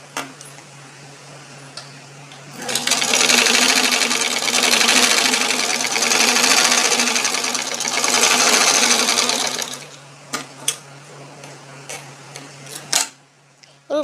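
A sewing machine runs a plain seam with a single top stitch, whirring steadily and loudly for about seven seconds before stopping. A few faint clicks and handling taps follow.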